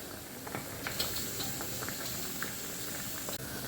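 Vegetable and fish curry with thin gravy simmering on a gas stove, a soft steady bubbling hiss with scattered small pops and blips, fairly faint and with no talking.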